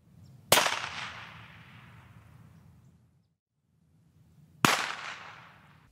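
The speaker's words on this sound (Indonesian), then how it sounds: "Dan bunyi senapan itu sudah pasti perkusif." Two sharp, loud gunshot cracks from a dummy rifle with no bullets, spaced about four seconds apart, each with a fast attack and a decaying tail over a low hum.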